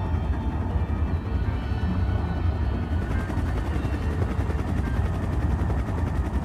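Drones in The Legend of Zelda video game hover with a steady whirring, rotor-like drone that stays loud and constant throughout, with no voices over it.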